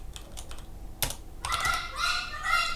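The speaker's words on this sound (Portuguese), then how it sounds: "Desculpem aí que meu papagaio está fazendo barulho ali. Ela gosta de gritar." A pet parrot screeches in the background, with harsh, rising squawks that grow louder toward the end after a few soft computer keyboard taps.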